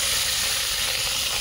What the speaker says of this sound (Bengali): এই মাছগুলোকে এক এক করে ছেড়ে ভেজে নেব